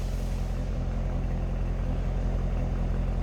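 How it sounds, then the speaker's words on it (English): A stock-exhaust 2017 Chevrolet Corvette Grand Sport coupe idles with a steady, low rumble, held evenly and close without any talk over it. "Stock exhaust, sounds like you'd imagine."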